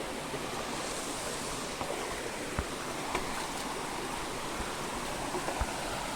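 Water rushing along a hillside stream among trees, a soft, steady broadband wash with occasional faint clicks and knocks, fairly quiet and unbroken.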